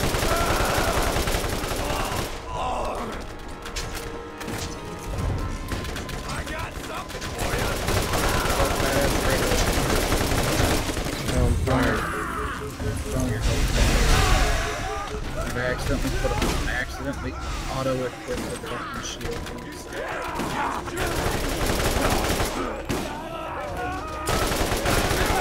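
Rapid bursts of video game gunfire from Borderlands rattle almost continuously, with machine-gun fusillades and heavy shots layered under excited players shouting over the action.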